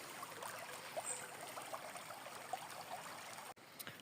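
River water streams and trickles around bare feet standing in a cool river along the Camino Primitivo pilgrimage route, a steady close babble with small splashes, briefly cut off near the end.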